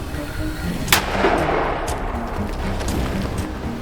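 A single sharp mortar launch in combat near Sudzha cracks out, followed by a rolling rumble that echoes and fades across open ground.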